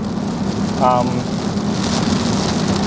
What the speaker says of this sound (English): Wow, it's pretty heavy rain.